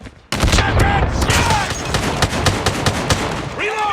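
Machine gun fire in a fast-paced first-person shooter on the small Shipment map: rapid, loud, dense bursts of automatic shots that run almost without pause, with faint game voice callouts mixed in.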